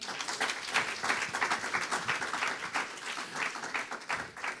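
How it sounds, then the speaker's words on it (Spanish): A church congregation applauds, with fairly soft, moderately distant clapping from a crowd of hands that rises and falls in loose bursts through a reverberant space. "¿Alguien da un aplauso al Todopoderoso hoy?"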